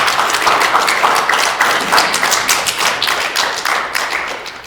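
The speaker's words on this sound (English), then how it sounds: "can we give Officer Jake a big applause" An audience at a civilian active shooter response training session claps for a police officer: steady, dense applause, loud at first, then gradually thinning and fading toward the end.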